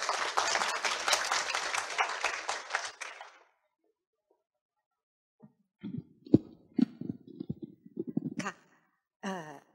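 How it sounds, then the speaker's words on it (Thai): Audience applause welcoming a speaker at a Thai corporate seminar on future food, a few seconds of clapping that ends abruptly, followed by quiet and then scattered handling noises and faint voices. "ขอเสียงปรบมือเรียนเชิญท่านด้วยครับผม"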